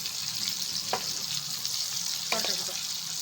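Pasta tossed in tomato sauce in a hot pan, a continuous close sizzle with two distinct scraping stirs of a utensil against the pan.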